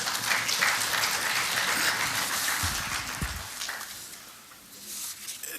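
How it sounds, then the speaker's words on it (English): Members at a parliamentary plenary session give a round of applause, a full wash of clapping that gradually thins and fades toward the end, with a couple of low thumps partway through. "loud applause"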